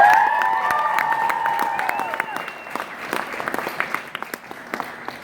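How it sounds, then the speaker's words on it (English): A convention panel audience at Sakura-Con breaks into a round of applause mixed with cheers, loud at first and then thinning into scattered individual claps toward the end. "Give them a round of applause"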